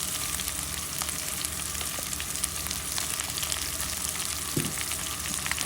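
Tomatoes, green chillies and salt fry in a pan with browned onion, a loud, steady close-up sizzle with scattered crackling pops and a brief scrape near the end, no talking.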